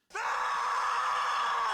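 A man screams in panic in a single sustained, loud, strained cry that starts abruptly and holds steady for nearly two seconds, with no other sound around it.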